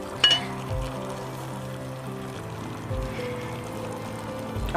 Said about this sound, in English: Just gonna pour my fat all over.